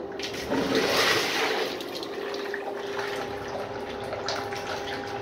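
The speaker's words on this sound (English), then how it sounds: "Alright, here's another flush." A miniature 1983 Norris wall-hung toilet flushes with a loud initial rush of water that settles into a steady running and refilling sound, alone without voices.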